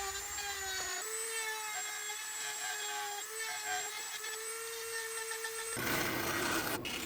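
A wood router cuts out a carved wall picture with a bigger bit, a high steady whine that dips and rises as it bites into the wood. It ends in a louder, rougher grinding burst.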